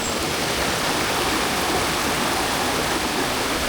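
River water rushing over rocks at a swimming spot in Quezon Province, a steady, loud, broadband wash with no breaks, heard up close and alone.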